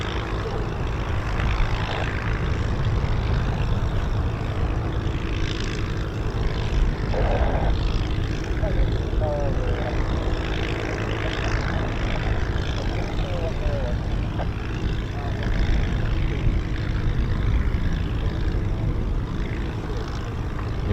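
Spitfire and Hurricane propeller fighters of the Battle of Britain Memorial Flight fly a display at RAF Coningsby, a steady loud drone of piston engines throughout, with a commentator speaking over it.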